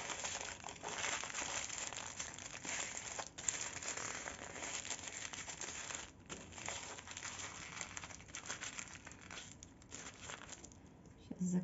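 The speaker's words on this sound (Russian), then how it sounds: "Также будем упаковывать и пергаментную бумагу." Parchment paper crinkles and rustles continuously up close as it is wrapped around a half-sphere for a marshmallow bouquet in a coffee cup. The papery crackling is soft and quiet.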